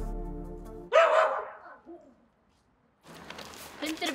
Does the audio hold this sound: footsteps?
no